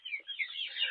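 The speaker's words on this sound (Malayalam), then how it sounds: "അപ്പോൾ ഇത് ഗ്രാമശ്രീയുടെ പൂവൻ കോഴി കുഞ്ഞുങ്ങളും അതേപോലെ തന്നെ പിടക്കോഴി കുഞ്ഞുങ്ങളുമായി കാണുന്നത്." Gramasree rooster and hen chicks at a poultry farm, faint high-pitched cheeping in quick overlapping bursts, soft and brief with no talk.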